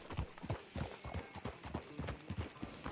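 Horse hooves clip-clopping at a steady walking rhythm in the western game Red Dead Redemption 2, a run of close, regular thuds on a dirt town street.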